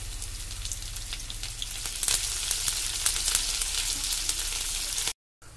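Shallots, dried chilies, curry leaves and mustard seeds fry in hot oil with a steady, dense, close sizzle throughout, then cut off abruptly near the end.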